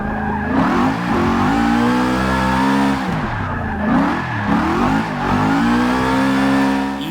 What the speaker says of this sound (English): Let's see if we can make it a continuous drift all the way around.